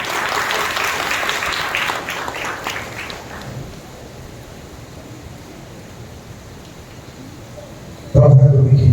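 A church congregation at Sunday worship claps and applauds loudly for a few seconds, a dense crowd roar that fades away, with a voice cutting in near the end.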